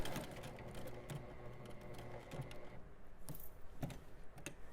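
A sewing machine stitches striped and solid fabric for a bag, making a quiet, irregular run of light mechanical clicks and taps.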